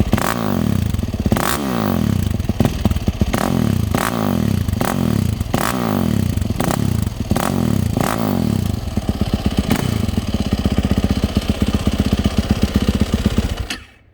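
A 2020 YZ450F dirt bike with a Dr. D aftermarket exhaust and 3 hours of use is revved repeatedly, rising and falling in throaty surges, then settles into a rough idle before cutting off, loud and close.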